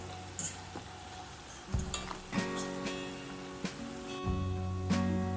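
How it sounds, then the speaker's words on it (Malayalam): French fries frying in hot oil, sizzling steadily throughout, with a few scraping clinks and bumps as the fries are scooped out of the pan. "നമ്മുടെ ഫ്രഞ്ച് ഫ്രൈസ് ഇവിടെ ആയിട്ടുണ്ട്. ഇത് നമുക്കിങ്ങനെ വറുത്ത് കോരാം."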